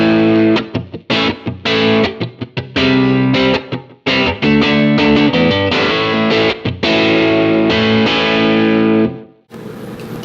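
Electric guitar played through a Helix D&M Drive distortion patch, loud and saturated, with chunky chords and short rhythmic stops before ringing out and cutting off near the end.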